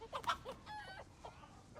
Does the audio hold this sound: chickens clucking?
yes